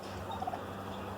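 A short, warbling turkey gobble rises briefly over a quiet outdoor homestead background in the morning.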